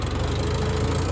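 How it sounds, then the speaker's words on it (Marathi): Mahindra Yuvo 575 DI tractor engine runs close by with a steady, low, throbbing drone and a slightly uneven rhythmic pulse, heard alone for about a second. "ट्रॅक्टर लगेच RPM ड्रॉप करतो"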